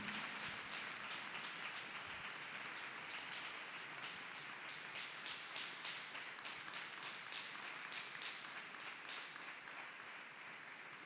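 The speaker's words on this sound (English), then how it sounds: "Let us clap hands for" Sustained audience applause at a church healing service, a dense continuous wash of many hands clapping at steady loudness throughout, with no pauses.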